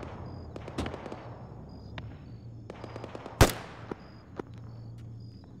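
Scattered gunshots in a military video game near a gun tower, sharp isolated cracks with one loud close shot in the middle and fainter distant pops around it over quiet background hum.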